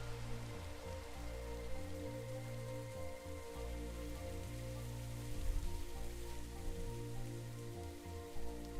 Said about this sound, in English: Raining too, yay.